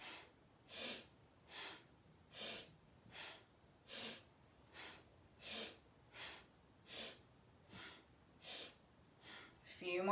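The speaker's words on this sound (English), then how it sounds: "All the breath is coming through the nose" Steady nasal breathing during a yoga strength and stability session: about a dozen soft inhales and exhales through the nose at an even, unhurried rhythm, close and quiet, with a faint rustle at the end.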